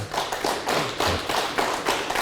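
Church congregation clapping in applause, a brief burst of rhythmic hand claps heard alone with no talk.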